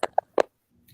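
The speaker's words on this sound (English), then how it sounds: "Somebody's chewing on the actual mic." Chewing or mouthing on a microphone during a football talk show, heard as three close, sharp crunchy bursts in the first half-second, then near silence with a faint low hum.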